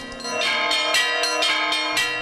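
Bells ring in an old wooden belfry in the Polesian village of Troyanivka, Manevychi district, giving loud, resonant strikes about twice a second that blend into a sustained metallic clangour.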